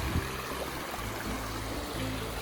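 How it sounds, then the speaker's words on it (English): Tuttle Creek flows through its campground with a soft, continuous rush and babble of water, fairly faint and steady throughout, with no voices. "let you just take in the scenery for a moment and listen to Tuttle Creek"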